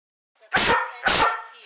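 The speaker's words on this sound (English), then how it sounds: "Notice the 2 barks at regular spaced intervals." A trained dog gives two sharp, loud barks spaced evenly about half a second apart, each short burst standing alone against silence.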